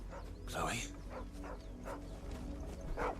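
A dog named Chloé in Final Fantasy XVI gives a few short barks and yips at moderate distance, spaced irregularly over a steady low game ambience, with voices present in the scene.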